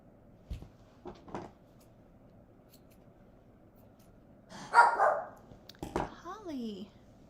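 A small dog gives a few short barks and yips among quiet stretches, with a brief whiny growling sound near the end, fairly faint and close.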